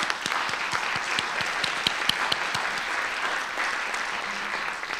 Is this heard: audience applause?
yes